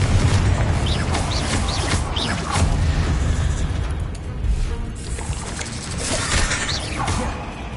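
Confringo explosive spell from the video game Hogwarts Legacy, heard as dense, loud, continuous booming and crackling blasts with rumbling low end, layered over busy in-game sound for several seconds.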